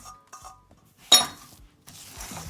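Semolina milk fudge mixture stirred in a pot over very low heat, a few quiet scrapes and soft taps, then one sharp metallic clink of a utensil against the pot, and light scraping afterward.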